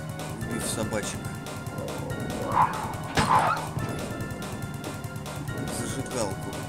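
Dogs in the Bio Hazard video game bark and yip amid crashing hits and thuds, busy and moderately loud, with someone talking over the fight.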